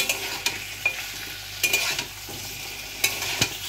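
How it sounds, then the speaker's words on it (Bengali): Raw papaya, potato, dried lentil dumplings and peas stir-fried with spices in a pan give a steady soft sizzle, broken by several sharp scrapes and clinks of a spoon stirring, with no talking. "পেঁপে, আলু, বড়ি, মটরশুঁটি সমস্ত কিছু কষিয়ে নিচ্ছি।"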